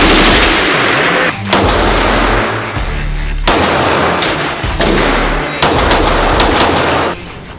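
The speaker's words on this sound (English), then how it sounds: "Aubrey talked me into doing the AK-47. First fire, Colton." An AK-47 rifle fires fully automatic at an outdoor shooting range: several long, loud bursts of rapid gunfire, separated by brief pauses.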